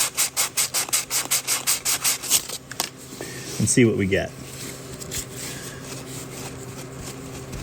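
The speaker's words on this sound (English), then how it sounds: "I'm going to take the paper here and just carefully work that a little bit" Rapid rhythmic rubbing of sandpaper against a rusty metal part of a 318 Poly engine, about a dozen quick strokes, then a brief pause before a person speaks over faint scraping.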